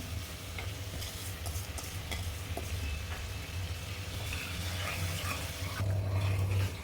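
Water bubbles and churns at a steady simmer in a pan with sugar added for making ginger candy, with a soft continuous rumble and occasional light splashes.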